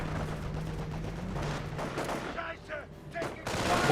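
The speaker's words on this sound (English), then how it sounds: "Snipers firing away at a long range." Snipers and a machine gun fire in the video game Company of Heroes: a dense stream of overlapping shots and bursts, with a faint voice talking under the battle.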